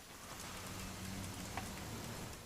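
In What Remains of Edith Finch, continuous rain falls outdoors as a soft, steady wash of drops, with a faint low rumble beneath and no one speaking.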